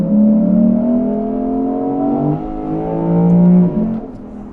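A 2023 Lexus IS 500 V8 engine revs loud and close, its pitch sweeping up and down in several throttle blips with steady harmonic tones and no talking.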